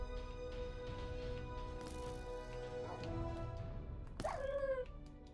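Dog in the Minecraft Hunger Games on Xbox One, giving short yips and a whimpering bark near the end over game music and background noise.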